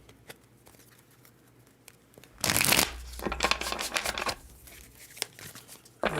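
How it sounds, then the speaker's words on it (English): Tarot cards shuffled up close at a reading, quiet fiddling first, then a loud riffling burst followed by softer, uneven shuffling and card handling, with no talking. "One more shuffle here."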